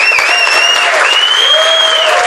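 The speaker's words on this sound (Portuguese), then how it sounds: "Quero pedir uma salva de palmas, como se ele estivesse aqui no palco." Sustained, loud applause from an audience at a rock event, a live launch of the Goitacá Rock Day campaign, rolling steadily throughout with shouts and whistles riding over the clapping.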